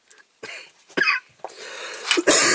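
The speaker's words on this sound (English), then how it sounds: "I still can't shake this cough off." Several harsh bursts of coughing in quick succession, close and fairly loud, with short pauses between them and a rougher, longer burst at the end.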